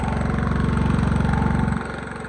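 Portable generator normally carried in a racing trailer, running steadily at close range with a loud, even engine drone, then the pitch and level drop slightly near the end as the load or throttle changes.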